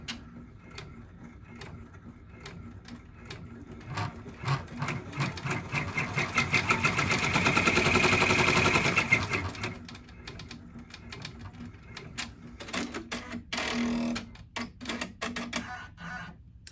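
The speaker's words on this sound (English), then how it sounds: "let it do the final bean stitch as well" An embroidery machine sews a bean stitch on a back-to-school design with a rapid, rhythmic mechanical clatter. It swells louder in the middle, then drops back to quicker, lighter ticking, with no talking.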